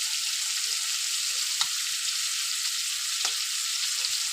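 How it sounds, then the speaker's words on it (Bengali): Spices with salt and turmeric fry in a pan for a Malabar spinach curry, giving a steady, close hiss of sizzling oil with a couple of soft stirring taps. "দিয়ে ভালো করে একটু ভেজে নেব"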